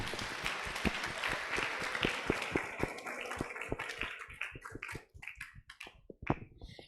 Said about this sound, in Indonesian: Tepuk tangan dong teman-teman semuanya.